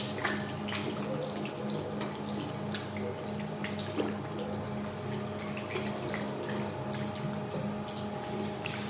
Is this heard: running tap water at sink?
yes